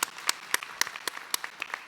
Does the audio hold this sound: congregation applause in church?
yes